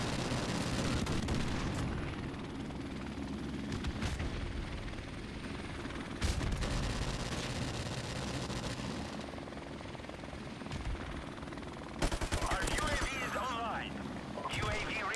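Gunfire in the shooter game Call of Duty 4 Modern Warfare Remastered, with sharp shot bursts and rapid clusters of cracks over a constant engine-like rumble, mostly near and loud, under someone talking.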